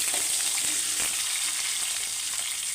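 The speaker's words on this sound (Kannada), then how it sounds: "ಇಲ್ಲಿ ಸ್ವಲ್ಪ ಚಿಟ್ಕೊಳ್ತಾ ಇದ್ದಂಗೆ ಈರುಳ್ಳಿ ಹಾಕ್ಕೊಳ್ತಾ ಇದ್ದೀನಿ." Onions are added to a mustard-and-cumin tempering with urad dal for a coastal Karnataka manoli palya and fry in hot oil with a close, steady, crackling sizzle and no talking.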